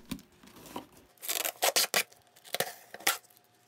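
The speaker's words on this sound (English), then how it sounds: "I'm just picking the tape off to do that." Packing tape being picked and peeled off a cardboard Amazon box, several short sharp ripping and crinkling bursts after a quiet start, close and alone.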